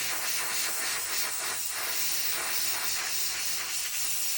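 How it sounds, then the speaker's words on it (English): A low-pressure air blower blowing off a part, a steady, even rushing hiss held continuously throughout, close and fairly loud with no talk over it. "I just grab my blower here. I got the air pressure turned down pretty low."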